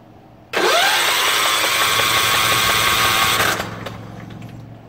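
A Kohler Command Pro small engine cranks over on its electric starter with the fuel off, a loud steady whirring drone that cuts in abruptly, holds for about three seconds and stops, leaving a faint hum.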